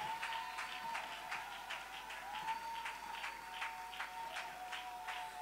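A church congregation applauding to acclaim the Lord, a steady wash of many hands clapping together over several seconds, with a faint ringing tone beneath the crowd.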